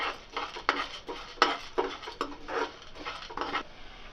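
Coriander seeds, chana dal and cumin dry-roasting in a pan, heard as a run of clattering stirs and scrapes with a spoon against the metal, rhythmic and close, no voices.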